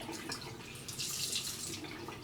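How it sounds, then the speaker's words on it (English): Water drains from a bathroom sink after the stopper is pulled while a wool knit is washed, a soft steady gurgle and trickle that swells briefly in the middle, quiet and close. "take the water stopper out of the sink and I'm going to squeeze very gently to take the excess water"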